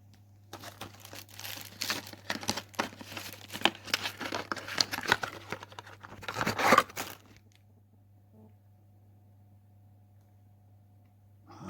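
A plastic courier parcel bag being torn open and crumpled by hand, a burst of crinkling and ripping for about seven seconds, then quiet with a low background hum.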